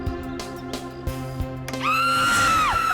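In a CID crime drama episode, a woman lets out a loud, sustained high scream that bends upward and then trails off, after a few faint knocks and clicks.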